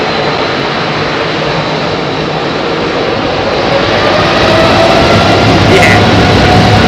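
An Aer Lingus jet departing from runway 27R at London Heathrow produces a loud, broad engine roar that builds steadily and grows louder toward the end, heard without talk.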